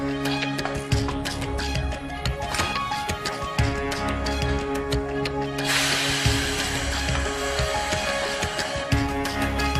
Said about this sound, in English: he still needs to use an air compressor to get the two together